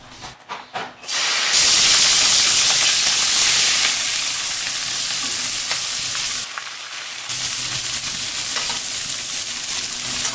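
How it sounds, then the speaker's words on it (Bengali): Greens and green chillies hit hot oil in a wok with black cumin, bursting into loud, steady sizzling after a few brief clatters, with a short dip before the frying noise resumes. "শাক কাঁচামরিচ দিয়ে দিলাম কড়াইতে"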